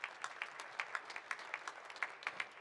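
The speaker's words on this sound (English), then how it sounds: "Big round of applause to yourselves." Applause from conference delegates in a hall, sparse and uneven with distinct individual claps popping out in an irregular rhythm over a softer background of clapping.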